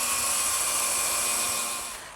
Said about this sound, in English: So first we start with the drill bit just to get through the wood.